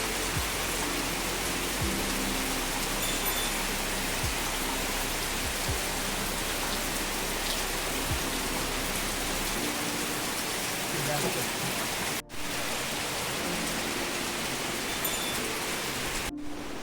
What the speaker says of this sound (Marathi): पावसानं धुमशान घातले